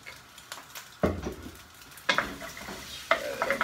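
Rice and eggs sizzle in a frying pan as they are quickly spread, with a steady hiss cut by several sharp scraping stirs about once a second, up close and with no talk.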